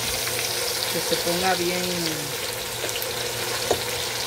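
Longaniza sausage frying in a pan with a steady, close sizzle throughout, while someone speaks briefly over it.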